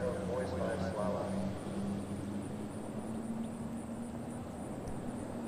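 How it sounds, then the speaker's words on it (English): A Malibu Response ski boat engine pulling a slalom skier at a waterski nationals lake competition, heard as a steady mid-distance drone under a commentator's continuous talk. "we hear the RPMs ramping up on this Malibu response"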